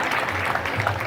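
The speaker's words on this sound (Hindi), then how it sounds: "एक जोरदार ताली बजाकर के स्वागत करिए" An audience at a young poets' kavi sammelan gathering claps to welcome a poet on stage, a brief dense burst of applause from the crowd.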